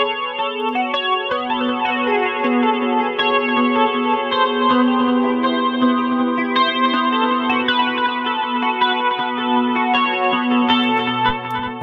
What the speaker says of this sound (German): In diesem Fall ist das jetzt ein Stereo-Delay.